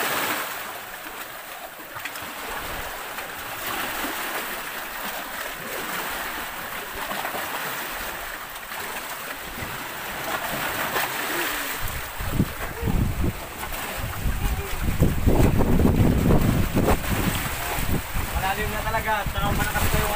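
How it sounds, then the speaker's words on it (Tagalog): Strong sea waves by a stone formation in the sea, rough surging water and wind buffeting the microphone, growing louder and heavier toward the end with occasional splashes close by. "malakas pa yung alon, kaya basa talaga."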